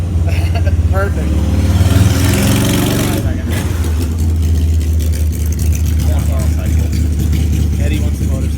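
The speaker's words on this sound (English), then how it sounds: "Good luck, editor, with a loud motorcycle in the background." A loud motorcycle engine rumbles steadily nearby, a low idling drone that swells briefly early on, with people talking over it during an outdoor interview.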